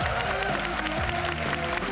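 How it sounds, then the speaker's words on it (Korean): An audience claps steadily, a dense wash of applause filling the room for a couple of seconds. "여러분 박수 부탁드리겠습니다."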